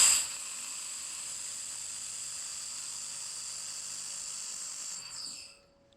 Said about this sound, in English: you just pull a trigger and the wire feed comes out and pushes you along in the weld